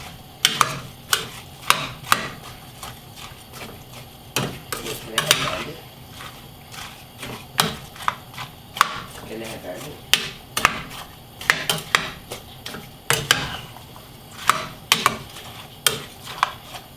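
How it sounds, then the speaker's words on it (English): Feijoas and apple cooking in a pot over medium heat, stirred with a utensil that knocks and scrapes against the pot in steady repeated strokes, close and clear with a light sizzle underneath. "Make sure to keep stirring so it doesn't burn the bottom of the pot"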